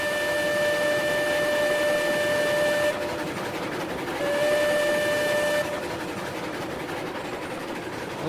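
Small train's steam whistle blowing loud and shrill in two long blasts, the second after a short gap, with steady rumbling rail noise continuing underneath and after.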